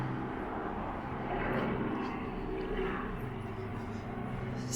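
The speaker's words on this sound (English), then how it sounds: "There's always a helicopter. Can't do a walk without a helicopter." A helicopter flying over Westminster in central London makes a steady, loud rotor and engine drone. It holds constant for the whole stretch, with only slight swells, over low street ambience.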